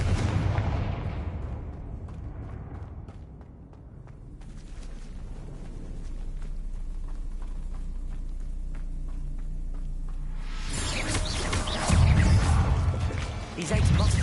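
Explosive blasts from the Confringo fire spell in the video game Hogwarts Legacy: a loud burst at the start, a low rumbling stretch, then heavier booms near the end, over game ambience.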